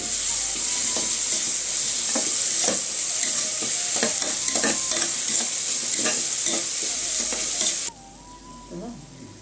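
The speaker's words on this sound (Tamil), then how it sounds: "பூண்டு பெருஞ்சிரகம் அதையும் அது மசாலா பொடியை போட்டு நல்லா ஒரு வதக்க வதக்கிடுவோம்" Garlic, fennel seeds and masala powder sautéing in a pan for Ramadan nonbu kanji, with loud, steady sizzling and frying and repeated scraping stirs close by, before the sizzle drops away near the end.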